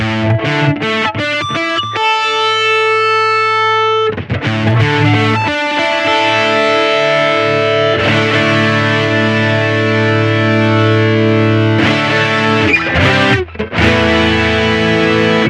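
Electric guitar run through a Boss GP-10 hex fuzz distortion with chorus added, playing loud, sustained, heavily distorted chords and single notes with brief pauses between phrases, alone without talk.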